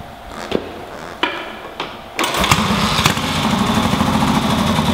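A rebuilt 1965 Triumph Bonneville 750 chopper motorcycle takes a few kicks and thumps, then its engine catches and settles into a loud, close, steady rapid idle.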